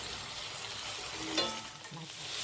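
Braised dried pollock in a nearly reduced sauce sizzles and bubbles softly in a pan. The sound is a steady low crackle with a brief clink partway through.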